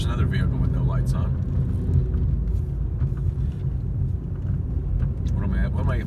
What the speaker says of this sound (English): There's another vehicle with no lights on.